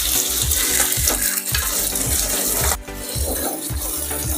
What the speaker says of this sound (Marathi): इकडे आपले पापलेट पण भाजले आहेत बघू शकता